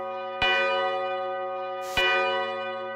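Two loud, deep tolls of a church-style bell open a wrestler's entrance music, each strike sharp and followed by a long ringing decay, about one and a half seconds apart, with no talk.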